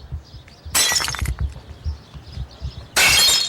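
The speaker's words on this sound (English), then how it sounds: "These are the sounds you expect to hear when you think of car break-ins." Car window glass shatters in two loud, bright bursts during a break-in, separated by quieter crunching and clinking of falling shards.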